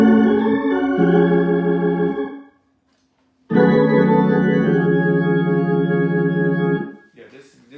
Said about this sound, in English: Yeah, this giving me organ vibes, man.